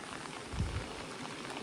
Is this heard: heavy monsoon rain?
yes